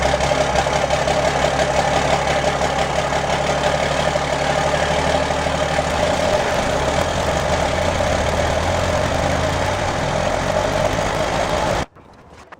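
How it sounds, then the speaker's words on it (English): A first-generation truck's engine runs at a steady, rumbling idle close by for about twelve seconds, then cuts off abruptly into near silence. "So I'm gonna start the truck up and see if it rubs at all."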